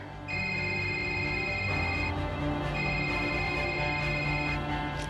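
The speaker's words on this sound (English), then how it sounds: "I get a phone call." A phone rings with an incoming call, its electronic ringtone sounding in two repeated bursts of bright warbling tones over a steady background hum, fairly loud and close.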